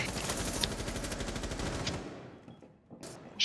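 Rapid automatic gunfire in Rainbow Six Siege, a fast steady stream of close shots for about two seconds that cuts off, leaving quiet with a couple of sharp isolated cracks after.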